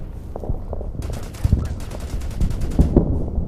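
Enemy bunkers returning fire in the strategy game Order of Battle on Guam, bursts of rapid machine-gun fire and scattered gunshots cracking over a low rumbling backdrop, no talk.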